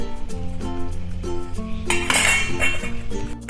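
A utensil clinks and scrapes repeatedly against a dish, bright ringing taps in a quick rhythm and then a rougher rattling stir, as spice masala is mixed into a garlic carrot pickle.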